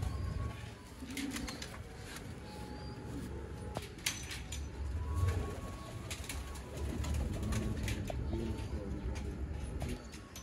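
Rare teddy pigeons kept by a fancier in Gujrat coo softly and intermittently, faint and low, with a few light wing flutters and scattered background noise.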